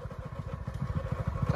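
A motorcycle engine runs close by with a fast, rhythmic low putter and some mechanical clatter, fairly quiet, during an Agniveer 1600-metre running competition.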